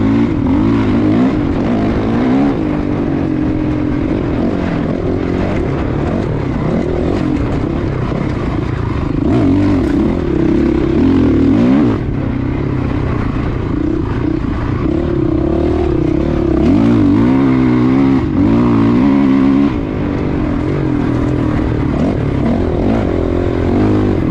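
A Honda CRF450R dirt bike engine runs loud and close, droning and revving steadily while riding, with rising and falling throttle swells and no talk.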